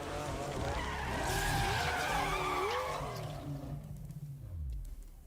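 Tyres screech through a long skid in the racing video game Need for Speed Unbound, layered over a roaring car engine that rises and then falls away, loud and close with no talk.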